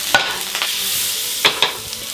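Butter sizzles in a pan after steak has been seared, giving a steady hiss punctuated by a few sharp spatters and scrapes, fairly close and loud.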